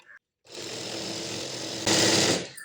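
Sewing machine running steadily while stitching a patiala pant, a continuous mechanical whir that starts after a brief pause and grows slightly louder near the end.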